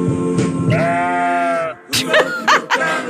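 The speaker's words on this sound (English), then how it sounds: "did you just put a sheep in there? It sounds the same." Sheep or goat-like bleating, a long wavering cry followed by several shorter bleats, loud and close, heard on its own.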